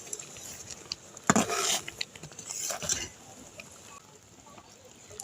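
A metal spatula scrapes and clinks against a pan while stirring soft boiled whole mangoes cooked with jaggery, with two brief louder bursts of stirring and quieter scraping in between.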